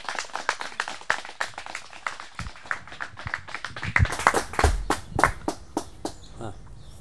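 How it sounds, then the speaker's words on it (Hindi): Audience clapping at a yoga gathering, a burst of claps that swells and grows louder and denser toward the end, with scattered sharp individual hand claps and some voices mixed in. "भाई जोरदार ताली बजा दो"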